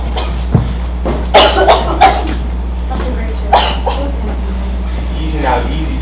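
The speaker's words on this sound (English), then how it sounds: "She's been coughing up blood all night." A sick woman coughs in short harsh bursts at close range, with a low steady hum underneath and a few throat-clearing sounds.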